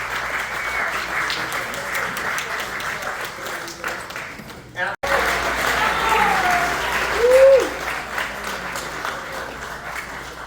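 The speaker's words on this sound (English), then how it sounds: "we'll give them a round of applause." Applause from an audience at the San Diego Music Hall of Fame induction ceremony fills a hall with sustained, dense clapping, briefly cut off midway, then resuming and swelling, while a voice speaks over it.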